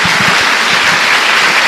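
A church congregation applauds in a loud, dense burst of clapping that fills the whole short stretch.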